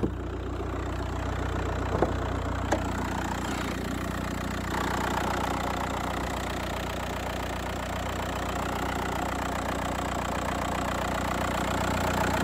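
A 2005 Volkswagen Jetta TDI diesel engine idles with the hood open, a steady close clattering rumble with a faint knocking tick throughout and no talk.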